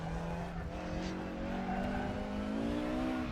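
A Mercedes 190 Evo race car in RaceRoom spins out and crashes on the Nordschleife. The engine tone is sustained and rising, and the tires squeal and skid loudly.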